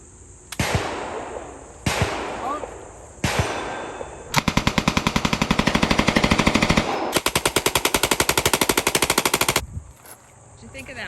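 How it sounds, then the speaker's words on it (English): A Thompson submachine gun fires nearby: three single loud shots, then two long rapid full-auto bursts of sharp cracks, each lasting a couple of seconds, loud and outdoors. "I guess I'll do the Tommy gun next."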